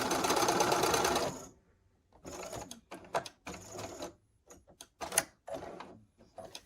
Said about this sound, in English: This is the last block in rows 1 and 2 being sewn together.